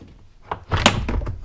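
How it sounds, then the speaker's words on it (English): Interior door panel popping free from a RAM 2500 6.7 Cummins truck door: a soft scrape followed by a loud plastic thunk and rattling clatter as the panel lifts off, close up. "you can basically lift the door panel straight up,"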